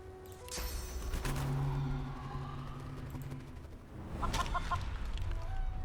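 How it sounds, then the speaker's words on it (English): A chicken clucks in the Divinity Original Sin 2 video game, several short bursts of clucking over a busy battle soundscape with no talk. "I guess you're gonna become a chicken."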